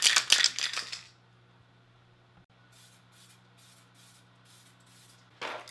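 Duracoat aerosol paint hisses onto a Mosin Nagant rifle in short, close spray bursts, then falls to a quiet pause with faint rattling before one more spray burst at the end.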